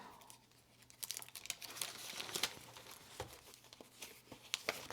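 Tracing paper and loose pieces of map crinkle and rustle as they are handled in a journal, a quiet, close, continuous papery crackle with sharper crisp bursts and no talk.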